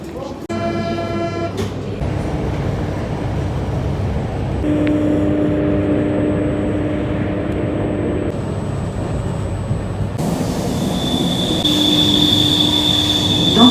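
A Paris metro train runs with steady rumbling, whining motor tones and squealing wheels, holding a loud, continuous level throughout with a brief change in pitch midway.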